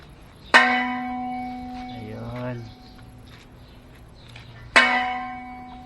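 Rope-pulled church bells ring out twice in an outdoor setting near the Cabusao wetlands in Camarines Sur, each strike loud and bright with a long humming decay, and soft talk sits in the gap between the tolls.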